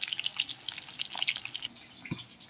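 Chicken 65 pieces fry in hot oil with a busy, bright sizzle. Dense crackles and pops run throughout, fairly close and steady, and no one speaks.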